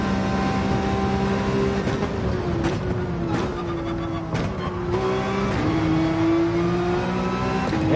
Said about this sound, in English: Full throttle down once we get to the apex of that section